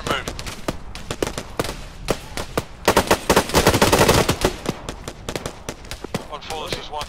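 Gunfire during an infantry assault in Arma 3, many sharp shots from several rifles in irregular bursts, near and loud, thickening into a dense volley midway, with voices underneath.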